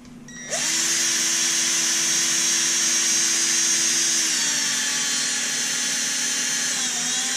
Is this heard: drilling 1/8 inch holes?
yes